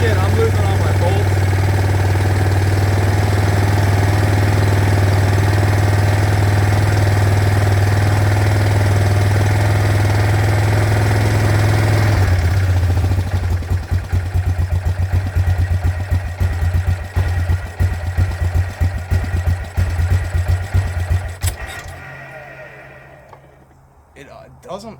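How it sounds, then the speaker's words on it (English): A Yamaha Grizzly 600 ATV engine with a carburetor in need of cleaning idles close and loud, a steady low rumble that turns into a rough, uneven chugging partway through before fading out. "It doesn't idle terrible."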